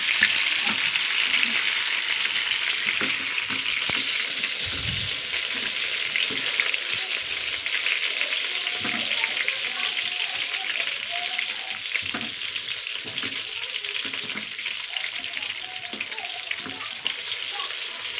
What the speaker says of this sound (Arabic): بصوا يا حبايبي اهي خلاص كده اتحمرت من كل الجوانب